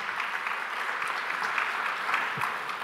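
An audience at a church sermon gives steady, moderately loud applause, many hands clapping evenly throughout with a few sharper claps standing out.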